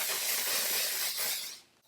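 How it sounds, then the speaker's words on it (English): A makeup setting spray is misted onto a face in one long, close, airy hiss that holds steady and then tapers off quickly at the end. "one of the best setting sprays to keep your makeup in place"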